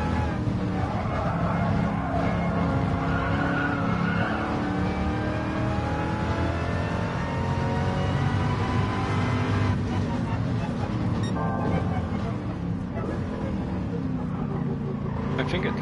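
A Ford Mark IV race car in Gran Turismo Sport roars steadily at high revs, its engine note shifting pitch as it runs through its gears, with someone talking over it.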